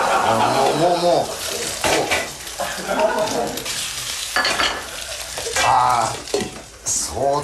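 Food stir-fried in a pan during a comedy sketch, loud sizzling and scraping in bursts with clanking utensils, while voices talk and exclaim over the cooking.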